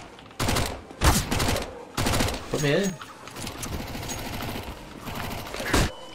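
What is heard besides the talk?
gunfire in a video game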